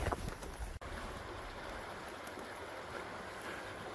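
A trout stream flows in a continuous broad rush of water, steady and close, with one brief dropout near the start.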